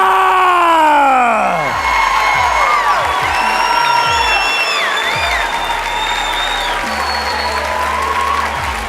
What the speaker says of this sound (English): If you could hear me, clap your hands.